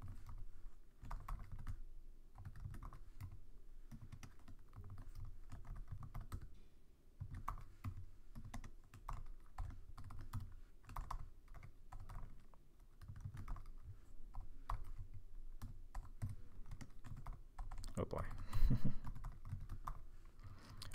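Steady typing on a computer keyboard while writing Python code, a continuous run of close, quick key clicks at a fairly even pace, with one sharper louder press near the end, and no talking.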